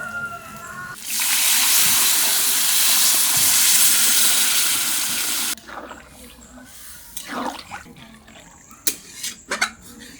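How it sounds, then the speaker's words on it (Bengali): Water poured into a pot of browned free-range chicken curry cooking village style: a loud, rushing pour lasting several seconds, then softer bubbling, sloshing and stirring clatter. "এখন আমি জল দিয়ে দেবো।"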